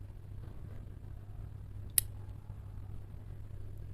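Scissors snip through crochet yarn tails in a single quick, crisp cut close by, set against a quiet low hum with no speech.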